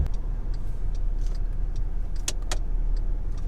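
Car with a remapped throttle driving along, a steady low cabin drone throughout with a few faint ticking clicks near the end, no voices.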